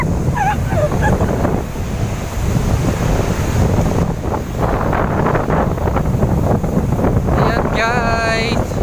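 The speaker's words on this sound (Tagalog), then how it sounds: "So nakikita nyo naman kung gaano kabagsik ang mga alon dito." Strong ocean waves roll and crash at a shore in San Jose, a loud continuous roar mixed with heavy wind buffeting, and a few faint voices underneath.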